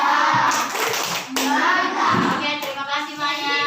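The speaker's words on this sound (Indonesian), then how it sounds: "Beri tepuk tangan." A group of children clapping their hands together in a classroom, loud and near, with a sharp burst of claps and kids' voices mixed in.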